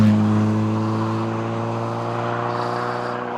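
Peugeot 106 Rallye engine running through a Scorpion full exhaust system, a steady loud droning hum with strong low harmonics that holds constant throughout, no talk over it.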